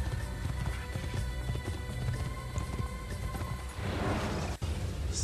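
Horse galloping in Assassin's Creed, a rapid stream of hoofbeat clip-clops over continuous game ambience, moderately loud and steady, ending with a brief rushing noise and a sharp click.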